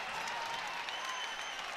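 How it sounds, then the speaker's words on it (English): Crowd at a women's college basketball game in Spokane, Gonzaga against San Diego, a steady roar of cheering and applause filling the arena throughout. "listen to that crowd in Spokane"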